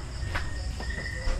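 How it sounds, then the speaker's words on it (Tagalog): Crickets chirp steadily in a forest, a continuous high trill over a low outdoor rumble with a few soft knocks, moderately near. "Tapos may kuliglig."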